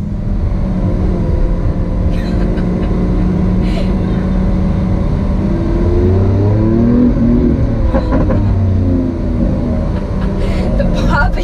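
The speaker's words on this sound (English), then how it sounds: "the Aventador doesn't like crackle and burble like the Aventador S is right now" Lamborghini Aventador S exhaust droning loud and close while driving, with pops and crackling bursts as the revs change, under ongoing talk.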